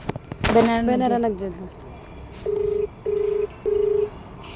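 A short burst of speech is followed by three evenly spaced electronic beeps of a phone being dialed, each about half a second long.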